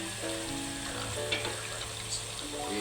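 Meat and vegetables simmer in a pan with a soft, continuous bubbling sizzle; steady tonal hum runs underneath and a few light clinks stand out, with no speech.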